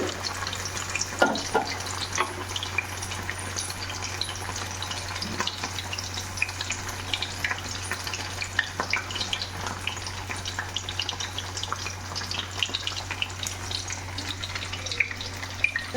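Red chandava fish, coated in masala, frying in oil with a steady close crackling sizzle and scattered pops throughout, with a low constant hum beneath.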